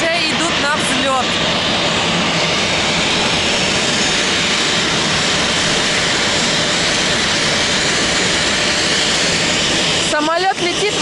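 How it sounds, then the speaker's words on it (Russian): Turkish Airlines jet airliner taking off, a loud steady engine roar filling the whole stretch with broadband noise, heard from nearby on the ground. "Вот турецкие авиалинии уже идут на взлет."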